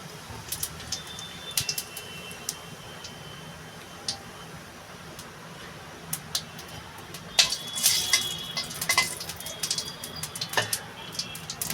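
Whole cumin seeds frying in hot oil for a rui fish head muri ghonto, giving sparse, faint crackles and pops that grow busier and louder toward the end.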